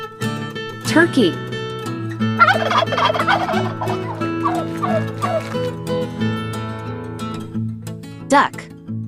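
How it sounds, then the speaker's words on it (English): A turkey gobbles in a rapid, rattling burst lasting a few seconds, with a short call before it and a sharp bleat-like cry near the end, all over bouncy children's music. "Turkey."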